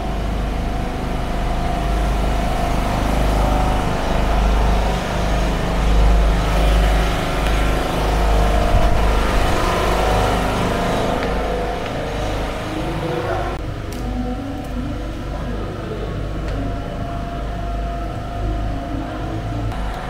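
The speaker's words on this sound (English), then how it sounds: "these noises came from these generators" Restaurant power generators running on a Yangon street, a loud, steady low engine drone with mechanical hum that continues for the whole stretch, overlaid with a mix of street and crowd noise and voices.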